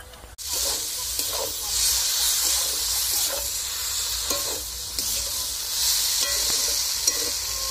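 Vegetables with mustard paste and fenugreek seeds being stirred in a frying pan for a Bengali pui mechuri dish, giving a steady bright sizzle and hiss with soft, irregular scraping strokes close by and no talking.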